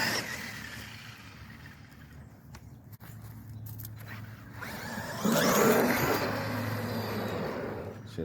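A Traxxas Sledge RC car drives outdoors, its electric motor whining with changing speed, growing louder and rougher as it accelerates near the end, with scuffing and handling noises.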